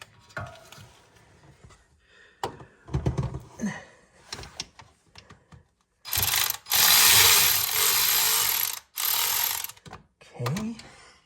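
A ratchet wrench breaks loose bolts on a 2008 Honda TRX500FM ATV during stator replacement, with a few scattered clicks and clanks followed by several loud, sustained bursts of rapid ratcheting, close up.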